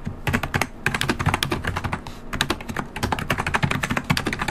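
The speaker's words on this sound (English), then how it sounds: "now I'm just gonna take this typing test" Fast typing on a Perixx PX-3200 membrane keyboard with UK layout, dense bursts of close, crisp keystrokes with brief pauses and no voices.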